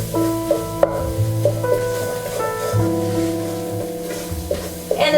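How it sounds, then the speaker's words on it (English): Six tablespoons of flour are stirred into melted butter in a pot to make a roux for chicken gnocchi soup, a soft continuous sizzle and scraping under faint background music. "We need to stir it so it doesn't lump up."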